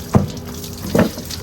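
Running tap water rinsing a beef leg, a steady close flow of water into a sink with two brief splashy bursts as the meat is moved under the stream.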